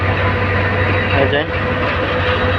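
Rangpur Express pulling out of Dhaka's Kamalapur railway station, a close, steady rumble of rolling carriages with a low engine drone and a brief dip in loudness midway.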